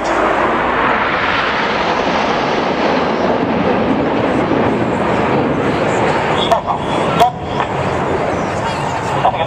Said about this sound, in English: as the team flies past at 3G, just 6 to 8 feet apart from each other in Diamond